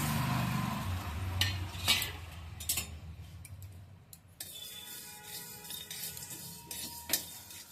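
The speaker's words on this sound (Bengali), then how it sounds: "এগুলো আমি শুকনো কড়াইয়ে ভেজে নিচ্ছি।" Pepper, coriander, cinnamon, cardamom and cloves are dry-roasted in a kadai over a medium flame, making light scraping stirs and scattered ticking rattles, close and unhurried, with no talk.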